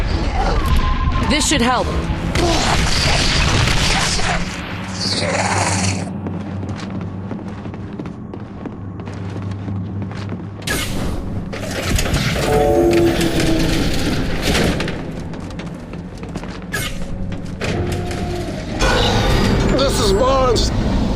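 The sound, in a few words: called-in heavy weapons explosions in video game The Bureau XCOM Declassified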